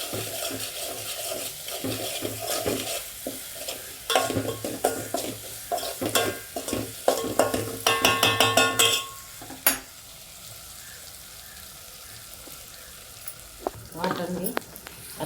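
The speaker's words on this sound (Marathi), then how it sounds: "हे पण जरासं आपण परतून घेऊया हिरवा वाटण" Green masala paste for a crab curry sautéed in a pan, with steady sizzling and repeated scraping stirs, busier and louder midway, then quieter frying with a few late clatters.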